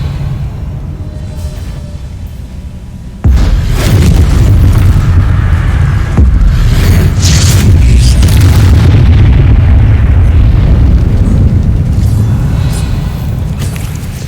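Bombarda and Confringo explosion spells go off in the video game Hogwarts Legacy: a sudden loud boom, then a sustained roaring blast with crackling bursts, fading slightly toward the end.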